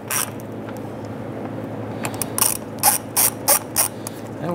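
A ratchet snugs down a fastener on the front bumper cover of a 2005-2010 Chrysler 300, a string of short, close clicking bursts over a steady low hum.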